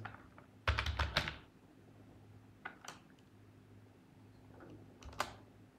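Computer keyboard keys pressed while entering header and footer code in a web admin panel: a quick flurry of clicks, then a few isolated taps spaced over several seconds, close but quiet.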